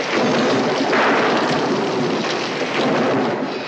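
A thunderstorm with heavy rain on a night at a seaside cove, a loud, dense, continuous rush of downpour with rolling thunder swelling beneath it, close and steady throughout, with no voices.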